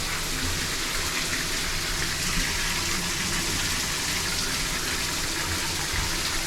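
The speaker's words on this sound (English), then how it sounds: "Just turn your shower on super hot." A cruise ship cabin shower on the Carnival Paradise runs at full heat, a steady, dense hiss of water that stays loud and close for the whole stretch, with no voices.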